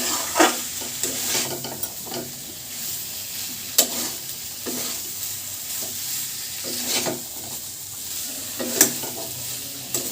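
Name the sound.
mutton keema and peas being stir-fried in a pan on high flame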